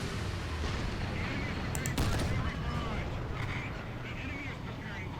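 Tank cannon fire in the War Thunder video game, a Tiger II with a 105mm gun, heard as loud booming shots with sharp reports around the middle amid steady engine rumble and battle noise.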